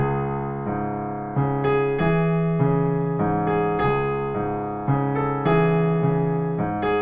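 Piano playing a melody over heavy, loud low bass notes that overpower the tune, with steady chords struck in a regular rhythm.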